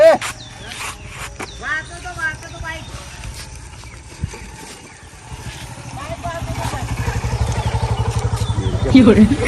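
A motorcycle engine chugs with a rhythmic putter that grows steadier and louder toward the end, while people talk nearby.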